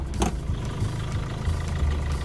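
A Hyundai i40 export car with engine vibration idles during a morning engine check, a steady low close-up hum with a brief sharp knock near the start.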